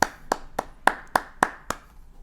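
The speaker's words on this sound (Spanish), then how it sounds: "pero antes un fuerte aplauso." Hand clapping for a podcast guest: seven sharp claps at an even, unhurried rhythm, close and alone with no other sound.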